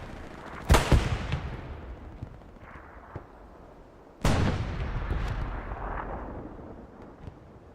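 A tank fires in a World War II video game set at the Battle of the Bulge, with two heavy booming shots a few seconds apart, each followed by a long rumbling decay and faint battlefield noise, with no voices.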